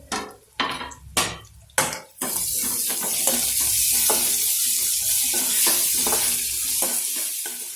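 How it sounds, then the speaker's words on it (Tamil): Crushed ginger and garlic sauté in a pan for Kumbakonam kadappa: a few close utensil taps, then a loud burst of hissing sizzle as they hit the hot oil, continuing under repeated stirring scrapes. "இப்போ நம்ம இடிச்சு வச்சிருக்க இஞ்சியும் பூண்டும் இதில் போட்டு நல்லா வதக்கணும்."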